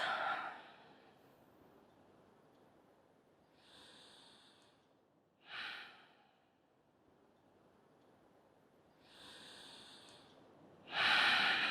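Slow, deep breaths during a yoga spinal twist, soft airy inhales and exhales with a few sharper nasal snorts, close and quiet against near silence, no talking.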